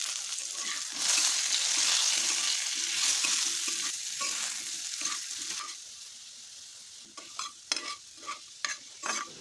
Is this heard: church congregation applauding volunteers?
no